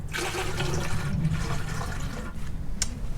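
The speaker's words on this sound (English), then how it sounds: "top it up to the 1 quart level with the distilled water" Distilled water pours into a jug holding coolant, topping it up for a 50-50 mix: a steady, close liquid fill with a continuous splashy rush throughout and no talk.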